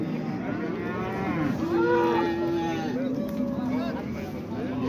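A cow that has calved twice lets out a long, loud, drawn-out moo in the middle, over steady outdoor background noise on a farm.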